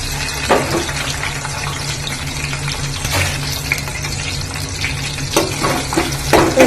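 Chopped onion sizzles in a pan with cinnamon and cloves, a steady close frying hiss broken by a few louder crackles and stirring scrapes, with no talking.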